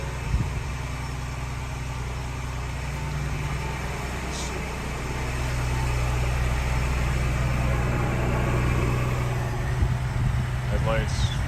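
A 2023 Ford Explorer ST engine idles with a steady low rumble throughout, a faint high chirp partway through, and a brief rising whine near the end.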